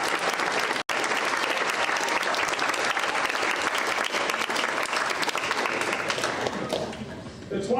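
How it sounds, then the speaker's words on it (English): Crowd applause at a senior class awards banquet honoring young women, a loud, sustained burst of many hands clapping with a brief cut near the start, then gradually thinning at the end. "Let's give all these young women a round of applause."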